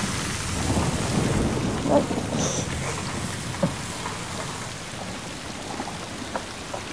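A sudden rain shower hisses steadily and densely while low thunder rumbles beneath it, with a few louder cracks and drops standing out near the start, in a drama scene with no talk.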